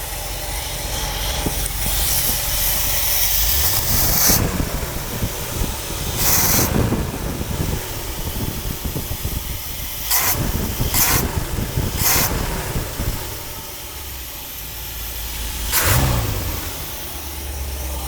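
A Buick 425 Nailhead engine idles and revs through its stock dual exhaust, a loud, steady rumble with several sharp rev bursts and hissing surges.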